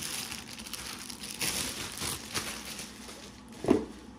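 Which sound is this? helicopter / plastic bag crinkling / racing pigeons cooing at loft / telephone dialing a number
plastic bag crinkling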